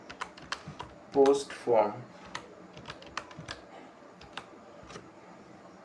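Rapid, light keystrokes on a computer keyboard tap out a terminal command in a steady patter, with a short stretch of speech partway through.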